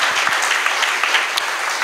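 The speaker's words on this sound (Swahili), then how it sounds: "utapiga makofi mazuri" Inside a church during a New Year prophecy service, a congregation claps continuously, loud and dense, as a steady crowd applause with no talk over it.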